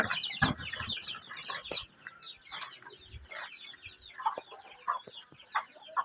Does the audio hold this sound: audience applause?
no